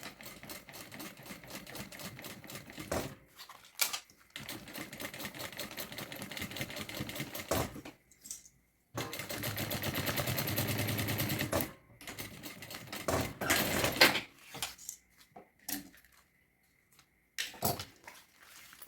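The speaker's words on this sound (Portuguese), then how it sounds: "Vou costurar com um pé de máquina." A sewing machine stitches the layers of a fabric thermal bag in several bursts, each a close rapid mechanical whir, separated by short pauses and handling knocks, with no talking.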